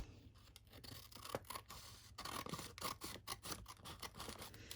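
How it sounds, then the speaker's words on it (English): The flap is cut off a junk mail envelope with a quick series of close, crisp snipping and scratchy paper-cutting sounds, irregular in rhythm, heard alone at a quiet level. "I'm just going to cut that flap off"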